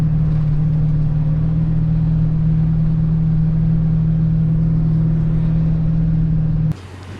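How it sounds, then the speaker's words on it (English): Truck tires spinning in soft beach sand, a loud steady engine drone with a strong low hum held for about seven seconds, then cutting off abruptly near the end. "I was spinning the tires on the sand the whole time and the sand is soft"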